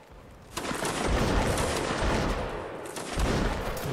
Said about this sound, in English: Some long-range shooting going on here